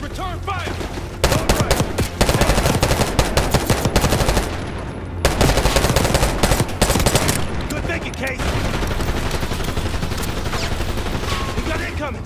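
Dense automatic gunfire in the Call of Duty Black Ops 6 campaign rattles in long, loud bursts of rapid shots, pausing briefly between volleys, with game sounds and combat effects underneath.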